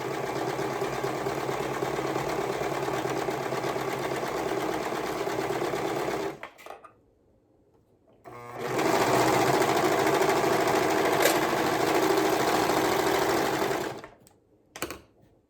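A serger sews a side seam in a steady, loud mechanical whir, running for about six seconds, pausing briefly, then running again before stopping, heard up close with no talking.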